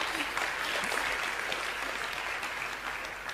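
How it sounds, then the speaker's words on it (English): An audience at a Barcelona evening event bursts into applause, brisk dense clapping at moderate distance that carries steadily and starts tapering off toward the end. "A round of applause for Christopher Columbus"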